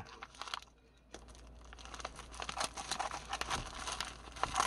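Crinkling plastic packaging being opened around an ordered 90-degree magnetic USB cable, with close crumpling and tearing rustles that grow busier and louder after a quiet pause near the start.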